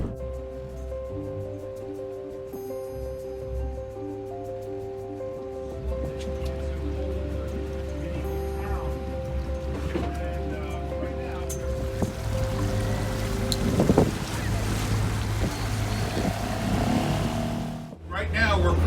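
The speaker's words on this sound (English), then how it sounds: "Right now we're crossing Slotten Lake, and we've got a beam sea coming on from the side over here, from the starboard side." A Dutch steel trawler crosses Slotten Lake in Friesland with wind and a beam sea coming from starboard: a continuous low engine drone with steady water wash and splashing, close and unbroken.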